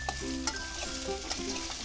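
Ginger frying gently in oil with salt, a steady sizzle close by, broken by a few light scrapes and clicks of stirring.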